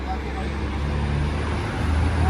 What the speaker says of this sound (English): Big old truck man.